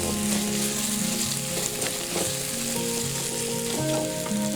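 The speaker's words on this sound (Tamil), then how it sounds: "எண்ணெய் போட்டு எண்ணெயில் வெங்காயத்தை போட்டு நல்லா வதக்கிட்டு அடுத்தபடியே தக்காளியை சேர்க்கிறோம்" Onions and tomatoes sauté in hot oil with a dense, continuous crackling sizzle that stays loud and even throughout, with a little stirring mixed in.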